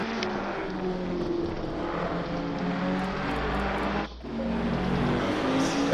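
Race cars lap the Imola circuit in a racing video game, their engines a steady, loud droning whine that holds constant, dips briefly once, then surges back.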